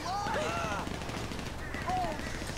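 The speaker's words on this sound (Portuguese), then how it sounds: "Rolando tiro, tá rolando tiro." Gunfire crackles in a busy burst during a bank robbery, heard at a distance under a constant wash of background noise, with faint whistling tones over it.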